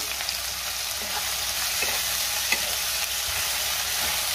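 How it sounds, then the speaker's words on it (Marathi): Tomatoes with ginger-garlic paste sautéing in a pan for prawn rice: a steady, loud sizzle throughout, with a few faint scrapes of stirring, close and without talk. "टोमॅटो सुद्धा आपल्याला साधारण 2 मिनिटं परतून घ्यायचा आहे"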